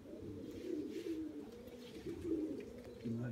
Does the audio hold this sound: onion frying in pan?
no